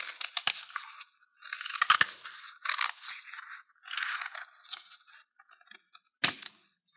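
Scissors snipping through a paper apple pattern, a run of close, crisp cuts and crunches in short bursts with brief pauses between, ending in one sharper snap.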